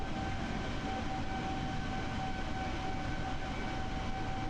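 Steady, even engine drone of an Airbus A320neo jet in Microsoft Flight Simulator, a constant broadband roar with a faint high tonal whine, continuous throughout with no talk.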